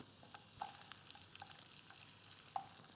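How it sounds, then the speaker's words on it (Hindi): Ginger fries in hot olive oil with a soft, faint sizzle, a steady hiss broken by a couple of light clinks, heard close but quiet and without any voices. "Let's add some ginger to the oil."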